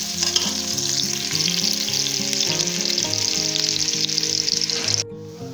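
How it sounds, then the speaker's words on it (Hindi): Onions frying in hot ghee for an aloo mutton curry, a loud continuous crackling sizzle with steady stirring, cutting off abruptly near the end. "अभी हम उसके अंदर ऐड करेंगे प्याज ऐड कर देंगे और हम प्याज को फ्राई करेंगे।"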